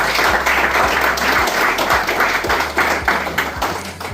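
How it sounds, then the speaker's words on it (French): An audience at a qualifiers' celebration reception claps with a broad, steady hiss of applause, while a loud rhythmic bass thump beats regularly underneath, as if music is playing. "applaudissez pour nous."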